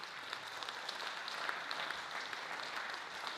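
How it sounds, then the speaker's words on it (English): An audience at a Rotary club gathering gives faint, distant applause, a soft, even patter of many hands that continues for a few seconds. "So round of applause to Charlie and Karen's team."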